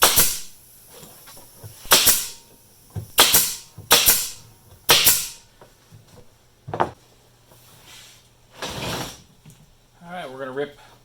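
A brad nailer fires brads into glued 1-by-1 wooden radius supports on a DIY toy hauler camper. About seven sharp, loud snaps come at irregular intervals, and a brief voice is heard at the end.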